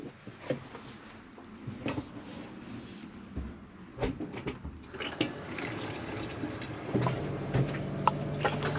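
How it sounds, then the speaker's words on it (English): Hot water running from the kitchen tap of an Elddis Prestige caravan, a soft splashing flow with intermittent knocks and clatter, the stream growing steadier and louder toward the end. "this is just showing that your water pump's working and your hot water is working, because that's getting lovely and warm there, that hot water."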